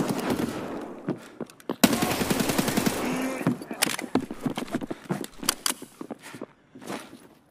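Gunfire in the Escape From Tarkov video game, a burst of rapid shots around two seconds in followed by scattered sharp cracks and footstep-like thumps, loud and close.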